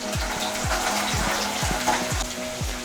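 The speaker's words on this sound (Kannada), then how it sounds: "ಇದನ್ನು ಮೊದಲು ಎಣ್ಣೆಲಿ ಫ್ರೈ ಮಾಡ್ಕೊಳ್ಳೋಣ" Green chilies fry in hot oil for a dhaba-style tomato curry, giving a steady, close sizzle with repeated scraping strokes of a spoon across the pan. No one speaks.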